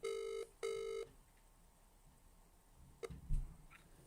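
A telephone ringback tone sounds twice in quick succession, loud and clear, followed by a near-silent pause, a click and a soft rustle as the line connects.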